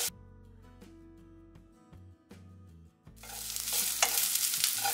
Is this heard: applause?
no